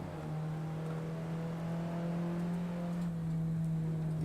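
A race car engine in the Assetto Corsa driving sim holds a loud, steady drone near the listener, with a slight shift in tone toward the end as the car drops a gear.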